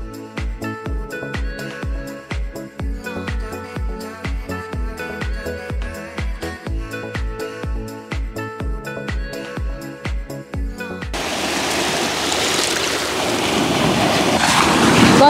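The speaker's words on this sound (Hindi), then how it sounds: "Enjoy the sound of water guys. This is Karwar Beach." Ocean waves washing onto Karwar Beach in coastal Karnataka: after a long stretch of rhythmic music, a steady, broad rush of surf takes over and swells louder toward the end.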